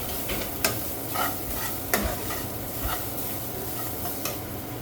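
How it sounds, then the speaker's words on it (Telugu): Grated coconut frying with onions in a pan for a chana dal curry, a steady crackling sizzle with periodic sharp clicks of a spoon stirring against the pan. "కొబ్బరి వేసుకుని ఫ్రై చేసుకోవాలి."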